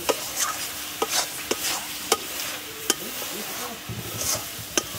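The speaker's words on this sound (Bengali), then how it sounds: "দেখুন নাড়লে কড়াই তলায়ও লাগছে না, কড়াই থেকে ছেড়ে যাচ্ছে নাড়ার সঙ্গে সঙ্গে।" A spatula scrapes and stirs a thick cooking mango mixture around a wok, with repeated sharp scraping strikes over a soft background sizzle, close up and without talk.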